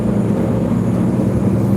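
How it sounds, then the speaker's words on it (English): Low, steady engine drone and road rumble heard from inside a moving bus, a constant muffled hum with no distinct events. "Excuse the noise for the bus."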